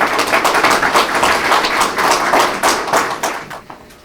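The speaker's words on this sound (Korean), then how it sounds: "여러분들 힘찬 축하의 박수로 맞아주십시오" Audience applause welcomes an award winner at the 14th Im Jong-guk Award ceremony, a dense, energetic burst of many hands clapping close by that tapers off in the final half second.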